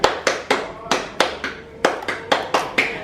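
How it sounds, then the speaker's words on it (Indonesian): Hands clap together in a lively, slightly uneven beat as a group of participants keeps time with a sing-along song at a PKH community session. The claps are close and sharp, with faint singing voices underneath. "Kalau kau senang hati tepuk tangan."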